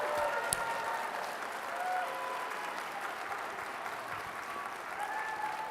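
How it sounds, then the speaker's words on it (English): A gala audience gives students a sustained round of applause, an even, continuous wash of clapping with faint background voices. "Give them a huge round of applause"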